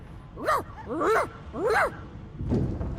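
A dog in the video game Divinity: Original Sin II gives three drawn-out rising and falling whines in a row, close and clear, followed by a softer snuffling sound.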